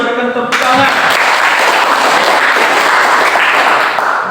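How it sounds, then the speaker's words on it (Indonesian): Classroom applause from students, a dense steady clatter of clapping that starts abruptly after a brief spoken voice and carries on loudly to the end. "berikan tepuk tangan"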